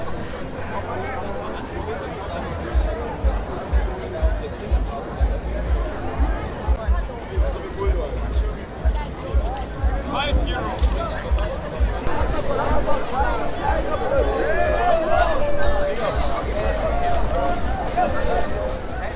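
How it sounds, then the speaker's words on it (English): Crowd chatter fills a street in Arenal, Mallorca, outside Mega Park during a tourism protest at Playa de Palma: a steady babble of many voices, fairly close, swelling slightly louder toward the end. "crowds are starting to build outside Mega Park"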